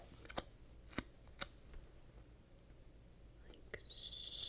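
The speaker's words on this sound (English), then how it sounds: "I think I'm going to cut this for nap." Scissors snipping paper for a planner page, a few quiet separate snips close by in an otherwise hushed room, with a faint rustle near the end.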